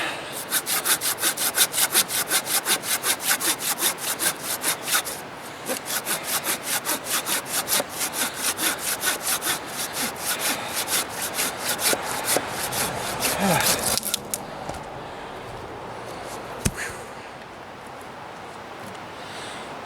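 Rapid rhythmic scraping of a knife blade shaving firewood outdoors, dozens of quick close strokes for about fourteen seconds, then the cutting stops and only scattered faint knocks and rustles remain.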